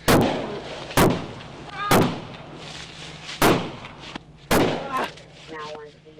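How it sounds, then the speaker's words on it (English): Five loud gunshots ring out about a second apart during a dash-cam shootout between a deputy and a suspect, sharp cracks with echoing tails, under faint background chatter and radio noise. "a deputy exchanging gunfire with a suspect"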